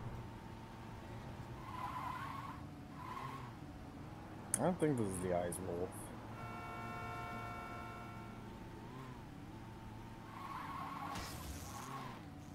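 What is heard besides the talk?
car driving and skidding in Saints Row 2 video game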